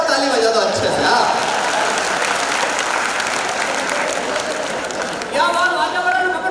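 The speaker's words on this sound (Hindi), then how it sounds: "भाई एक बार ताली बजा दो अच्छे से हाँ" Audience applause at a live Hindi poetry event in the Mewar region, a dense, loud burst of clapping mixed with crowd chatter that holds steady for several seconds, briefly thins, then swells again near the end.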